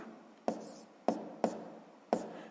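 A pen or pencil writes out a sixth-grade math solution by hand, giving four short, sharp scratching strokes with brief gaps between them, close and quiet with no talk.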